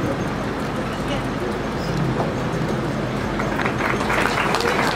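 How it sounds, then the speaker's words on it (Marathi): Loud, sustained applause from an audience at a Catholic ceremony, a steady wash of clapping that lasts throughout and swells slightly toward the end. "जोरदार टाळ्या"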